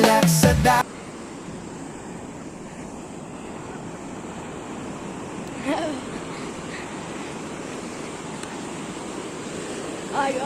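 Sea waves wash against the shore in a constant, hissing rush, with wind buffeting the microphone and a few slightly louder swells breaking through.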